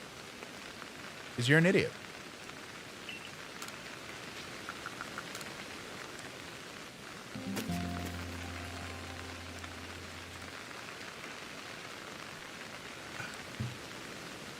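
Steady rain patters in the Pokémon Legends: Arceus video game, a constant soft hiss running throughout, with a few brief game tones and a short spoken remark breaking in.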